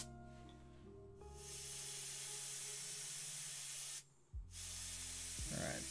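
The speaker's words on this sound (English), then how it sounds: "Alright, so I'm just going to airbrush this a little bit." Airbrush spraying over marker drawing on paper, a steady close hiss that runs almost continuously, cutting out briefly once before resuming, with a low background hum underneath.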